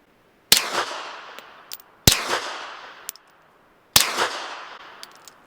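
Three suppressed 9mm pistol shots with supersonic full-power rounds through a Dead Air Odessa-9 suppressor run wet, each a sharp loud crack with a decaying tail, spaced about 1.5 seconds apart, with faint clinks between.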